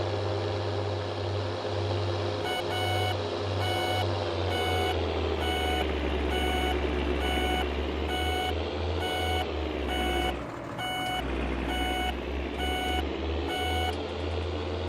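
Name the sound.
vehicle indicator beeping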